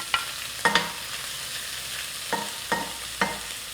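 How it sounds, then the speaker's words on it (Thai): Shrimp stir-frying in a hot pan, a steady sizzle broken by several sharp scrapes and clacks of a spatula turning them, close and without talk. "เราใส่กุ้งไปนะค่อยใส่ รอแป๊บหนึ่งให้กุ้งอีกด้านหนึ่งสุกจากนั้นเราก็ค่อยพลิกกุ้งอีกทีหนึ่ง"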